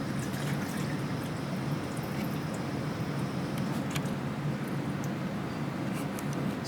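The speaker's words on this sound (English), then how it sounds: "So I'm just going to rinse this off." Steady, continuous running water rinses an electroformed opal piece, a close, even wash with no pauses and a few faint clicks on top.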